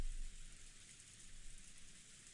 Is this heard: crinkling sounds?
no